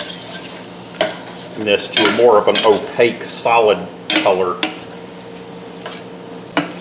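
Shrimp sizzling in a hot pan while a utensil stirs and scrapes, clattering in irregular bursts over a steady fry hiss, with a person talking between the stirs.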